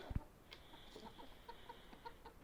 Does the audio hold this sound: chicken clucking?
yes